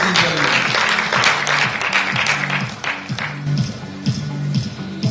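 Audience at a sustainability awards ceremony applauds an honoree, a loud burst of clapping that thins toward the end, with background music and a voice over it.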